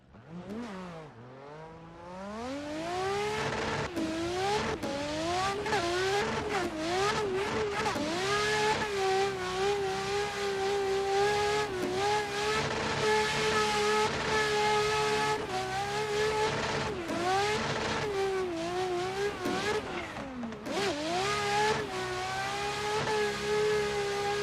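A loud racing car engine in a video game revs and climbs through gears continuously, with bursts of acceleration and brief tire squeals, close and dominant throughout.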